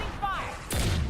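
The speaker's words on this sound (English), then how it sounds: "Opening fire." Gunfire in a story video game, with a short whistling sweep followed by a sudden loud blast and a rumbling tail, all within a cluttered game soundscape.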